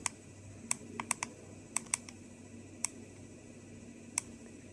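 Buttons pressed on a prototype ATOM-SCAN-Light dosimeter-radiometer: small sharp plastic clicks, single and in quick pairs, scattered irregularly over a quiet background hum, close and crisp.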